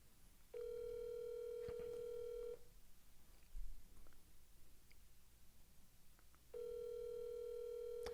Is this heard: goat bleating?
no